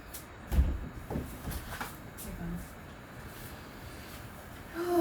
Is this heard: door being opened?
yes